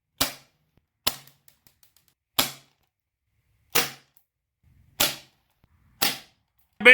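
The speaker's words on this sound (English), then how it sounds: "Little airsoft gun here, and figure we'll shoot it." An airsoft gun fires BBs into styrofoam: six sharp, close cracks spaced roughly a second apart, each a crisp snap with a quick decay and silence between shots.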